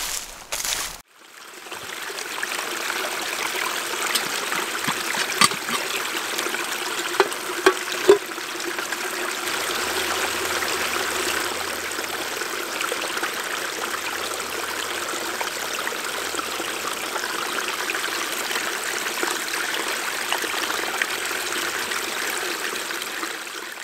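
A spring runs in the woods, a steady close trickle and rush of flowing water that continues evenly throughout with a few small knocks and splashes, and no talking.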